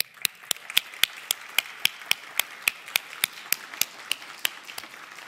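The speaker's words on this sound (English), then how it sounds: "a round of" Clapping at a fall graduation convocation ceremony comes as a steady, evenly spaced run of about twenty crisp, close claps that fade slightly toward the end, with no talking.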